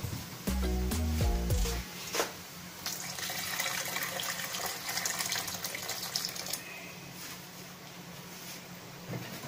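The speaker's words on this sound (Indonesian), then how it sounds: "kita bisa tambahkan air" Water goes into a pot of Betawi young papaya vegetable stew with coconut milk. A short clattering and ringing opens the sound, then a continuous pouring rush runs for several seconds, close and moderately loud.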